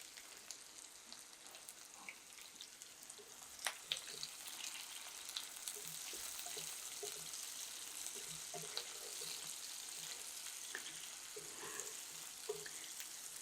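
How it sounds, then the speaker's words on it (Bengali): Round-cut onion rings fry with sliced pointed gourd (potol) in a pan, giving a soft, steady sizzle with scattered small pops and crackles, fairly quiet and continuous, with no voices. "পেঁয়াজের কাঁচা ভাবটা যাওয়া পর্যন্ত একটু ভেজে নিব"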